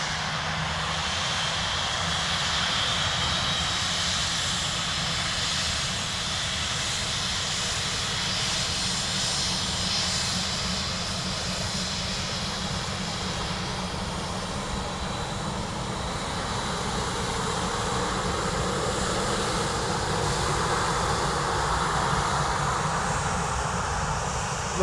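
Lufthansa Airbus A319 jet from Munich at Dublin Airport, a loud sustained engine roar that swells and shifts slowly over about twenty-five seconds, heard alone without talk.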